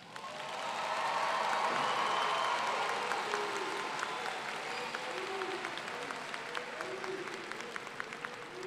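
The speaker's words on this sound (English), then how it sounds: "let's give a round of applause for our graduates." Crowd applause for graduates at a technical college commencement ceremony, swelling into a broad sustained roar of clapping from a large audience with some cheering mixed in, then gradually easing off.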